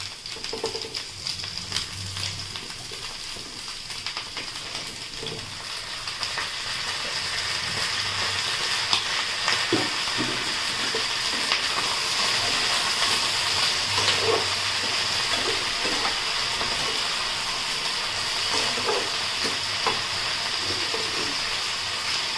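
Ridge gourd and okra fry in a pan, a steady close sizzle and hiss that swells after the vegetables go in, with faint scattered clinks and stirring.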